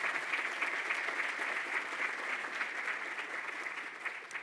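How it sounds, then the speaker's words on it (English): Steady applause from the audience at a university provost's convocation address, heard at moderate distance as a uniform, sustained patter of many hands with no talking over it. "Yeah, round of applause."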